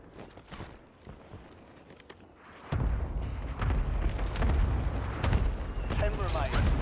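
LDBR artillery strike landing in the Warzone video game: after a quiet stretch with faint taps, a heavy rumbling barrage erupts and keeps going, a dense run of booming impacts and crackling blasts that continues to the end.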